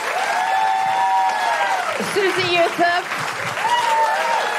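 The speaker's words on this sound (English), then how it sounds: "Can I have a big round of applause and a big thanks for Claire Hooper" Applause from the audience at a Wheeler Centre tribute show in Melbourne, a broad steady wash of clapping heard beneath a voice that keeps talking over it for the whole stretch.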